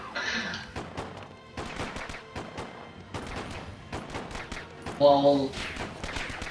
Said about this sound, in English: I don't know why that's immune to gunshots and not to punches.